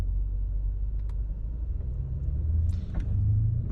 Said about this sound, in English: I even put the windows down a little bit so you guys can hear the car